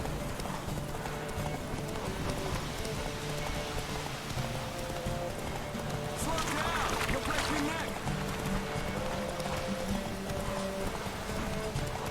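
Horse hooves clip-clop in a steady, continuous rhythm in the video game The Witcher 3, up close under a busy bed of ambient noise, with a brief louder splashy burst midway.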